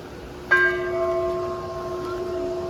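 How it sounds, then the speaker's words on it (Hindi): A large temple bell is struck once and rings out loudly, its tone sustaining and slowly fading over a steady background hum. "देखो ये रही घंटी इतनी बड़ी सी"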